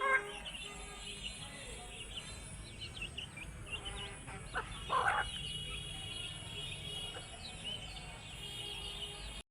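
Chickens cluck and squawk faintly at feeding time, scattered calls and a brief flurry of agitated noise over a steady low background hum.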